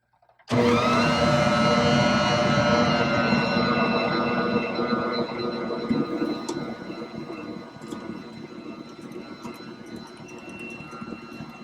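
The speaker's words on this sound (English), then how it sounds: "we are going to mix this together until combined" A kitchen stand mixer mixing cranberry orange bread dough starts abruptly and runs with a loud, steady motor whir and churning, easing slightly as it keeps mixing.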